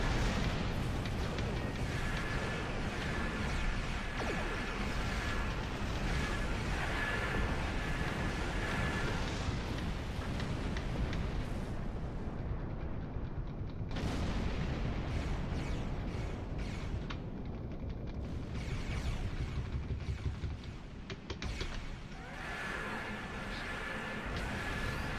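A web cannon fires in the Star Trek Online space game, giving a sustained roaring, rumbling barrage with explosive bursts, one brief lull and a dip near the end, and no talking.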